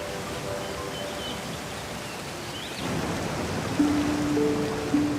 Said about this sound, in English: the silence is broken by the sound of falling water